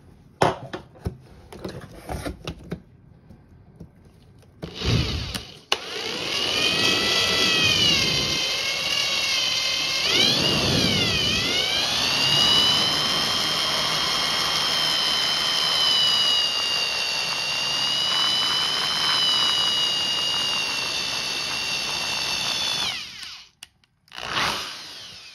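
Power drill boring a deep hole into a piece of fatwood, a loud steady whine lasting about eighteen seconds with its pitch wavering as the bit loads and frees, framed by brief handling noises at either end.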